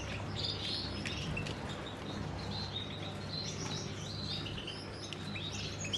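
Birds in a breeding aviary chirp and tweet over a steady background hum: European goldfinches, including mutation goldfinches, and female canaries. The high, busy calls run throughout, moderately close but not loud.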